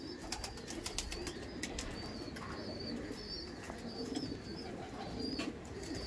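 Hundreds of pigeons in a large loft keep up a steady, muted cooing hum, dotted with small sharp clicks and a few light chirps, moderately distant and unbroken throughout.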